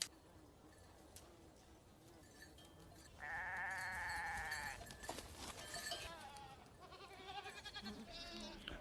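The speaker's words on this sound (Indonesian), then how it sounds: "terdengar suara kambing dari bawah bukit" Goats bleating from below a hill in a film scene from Lone Survivor, several drawn-out bleats overlapping one another, moderately close, amid faint outdoor ambience.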